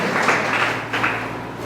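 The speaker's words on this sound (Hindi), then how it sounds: "परमेश्वर के जोर से ताली बजाइए" A church congregation claps their hands together at a Sunday service, a dense, steady wash of applause from many people that swells and then eases off.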